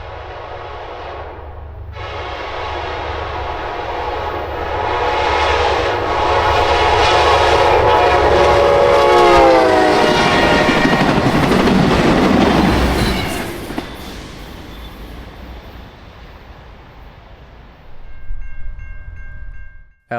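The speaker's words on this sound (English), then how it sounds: "Piedmont trains fly through Thomasville without stopping, passing the former Southern Station and a Southern caboose at speed." Amtrak Piedmont passenger train with an F59PH locomotive racing through Thomasville past the former Southern station without stopping, horn sounding loudly then wheels roaring and fading as it passes close by.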